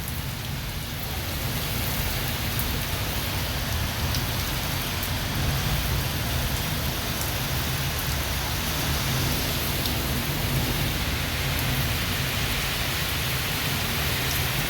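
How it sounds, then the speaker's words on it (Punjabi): Heavy first monsoon rain of Sawan pours down on the village of Fatte Wale amid strong wind, a dense, steady roar of rainfall holding at full loudness throughout with no voices. "ਬਾਰਿਸ਼ ਵੱਡੇ ਪੱਧਰ ਤੇ ਭਾਰੀ ਮਾਤਰਾ ਦੇ ਵਿੱਚ ਜਿਹੜੀ ਬਾਰਿਸ਼ ਹੋ ਰਹੀ ਹੈ"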